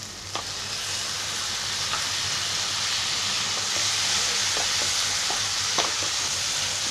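Oysters dropped into a pan of frying masala for a Konkani-style oyster fry, a continuous loud close sizzle with sparse crackles and the odd stirring clink, no voices.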